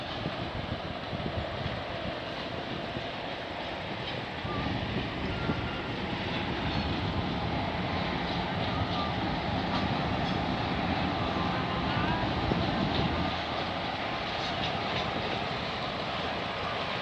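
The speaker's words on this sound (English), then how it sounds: "I think we got the 5:54 locals heading to Oakville now." A GO commuter train passes at King Road in Burlington, Ontario, its steady rumble and rolling wheel noise filling the whole stretch and holding loud and close throughout.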